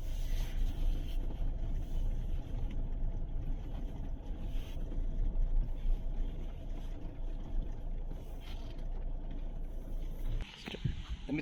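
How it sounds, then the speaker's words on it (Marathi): Open beach ambience at Rajodi beach: a continuous rush of wind and surf, steady and fairly loud, with a brief dip near the end. "तर आता आपण आलेले आहोत बीचवरती"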